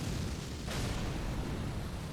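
Fireball spell explosion in Elden Ring, a loud broadband rumbling blast that swells sharply at about the midpoint and keeps roaring steadily to the end.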